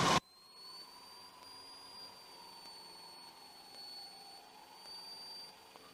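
A small aircraft's engine at full power during a takeoff roll makes a steady, fairly quiet drone with a thin whine on top. It follows a sharp burst of noise at the very start.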